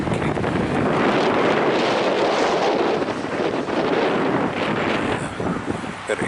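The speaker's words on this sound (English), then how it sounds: "It's pretty windy. Winds are blowing from the north." Strong cold north wind on a cloudy, lightly snowy day, roaring and buffeting the microphone loudly and continuously, swelling and easing slightly with no other sound.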